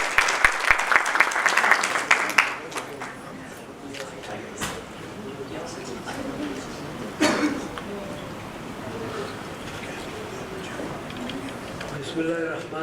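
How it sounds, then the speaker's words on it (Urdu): An audience at a business award ceremony claps in a brief burst that fades within a couple of seconds, followed by scattered room noises and people talking. "پرزور تالیاں بجاتے ہیں"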